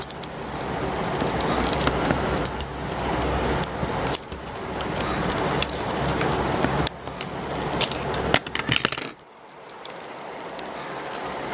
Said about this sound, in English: you should first cut it randomly so that it becomes easy to shape it up